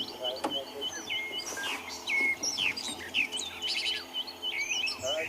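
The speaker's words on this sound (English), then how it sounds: "Lots of different birds. We can hear some canaries" Many wild birds, among them canaries, chirp and tweet together at sunrise on a safari drive, with rapid overlapping calls that are fairly close and fill the whole stretch, along with a faint insect hum.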